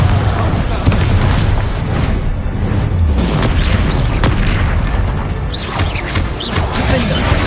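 Confringo spell blasts in Hogwarts Legacy combat on PS5, loud booming fiery bursts that repeat over a dense, chaotic bed of battle noise, with a voice calling out among the hits.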